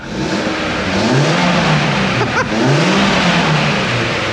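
A stock-exhaust Mitsubishi Lancer engine revs up loudly and close by, rising in pitch, easing briefly and then revving again, with a steady broad rumble underneath.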